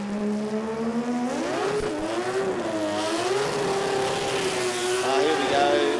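A Mazda RX-8 race car at the Garrett Brisbane Jamboree 2025 revs hard and loud, its engine note climbing, dipping and swinging through several rising and falling sweeps for the full six seconds.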